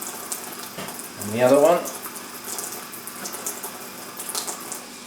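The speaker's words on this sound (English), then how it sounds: "So far, running that under the tap, 2 little pieces have come out." Kitchen water tap running as bark is rinsed under it, a close splashing gush that swells briefly and then settles to a lighter trickle while a person talks.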